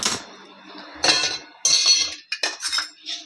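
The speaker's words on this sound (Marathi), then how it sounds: "तर आपण हे गरम होईपर्यंत आपण भातामध्ये दही मिश्रण करून घेऊया" A spoon scrapes and clinks against a metal pot while curd is stirred into hot cooked rice, in short irregular bursts with quiet gaps between them.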